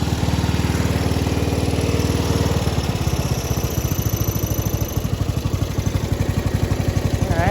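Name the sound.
Craftsman LT4000 lawn tractor engine idling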